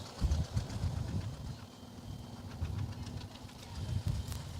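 An old tractor engine rumbles along in a parade at a farm power show, a low uneven chugging throb that swells and eases, fairly quiet against outdoor background.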